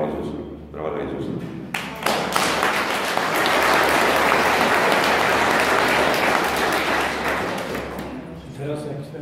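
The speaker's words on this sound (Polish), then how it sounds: "Brawa dla Jezusa." An audience at a Catholic retreat in Częstochowa breaks into sustained applause that swells loud and dense and then tapers off, with a voice speaking briefly before and after it.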